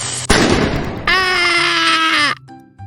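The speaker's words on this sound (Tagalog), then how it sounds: "Unang-una, paputok." New Year firecrackers go off in a loud, crackling burst, followed by a long sustained shrill tone that cuts off abruptly, all close and harsh.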